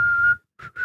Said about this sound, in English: Like, I can whistle, right?